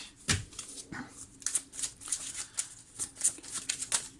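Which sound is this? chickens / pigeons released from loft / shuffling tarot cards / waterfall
shuffling tarot cards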